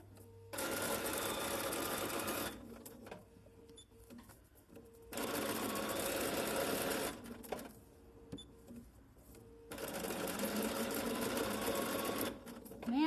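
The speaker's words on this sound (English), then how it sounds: "I'm gonna do a couple more stitches, and then I'm gonna back stitch." A Bernina sewing machine stitches and back stitches in three sustained whirring runs, each a few seconds long, separated by quiet pauses with small clicks, close and fairly loud.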